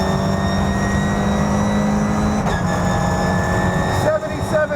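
Toyota GR86 Cup race car engine idling steadily while warming up at a race track, a constant close, loud hum with a slight change in pitch midway, with people talking over it.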